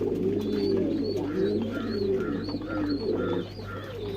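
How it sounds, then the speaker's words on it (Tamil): Karna pigeons coo in a steady, repeating rhythm of soft rolling calls, close and clear against a low constant hum. "கர்ணப்புறா இது"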